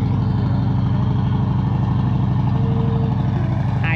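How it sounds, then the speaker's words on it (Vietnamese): A trawler boat engine runs steadily at a river mouth near the sea, a continuous low droning rumble with no breaks, heard close and alone. "Đây là hai chiếc ghe cào nè."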